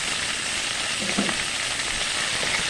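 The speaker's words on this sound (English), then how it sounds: "Add my onions in there. Let them cook with the bacon and the smoked turkey neck." Onions sizzle in a pot with bacon and smoked turkey neck, a steady close frying hiss with a brief soft shift midway and no talking.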